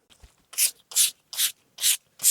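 Milani Fruit Fetish setting spray in Mango Coconut is misted in five close, evenly spaced hissing spritzes, each short and sharp, with silence between them.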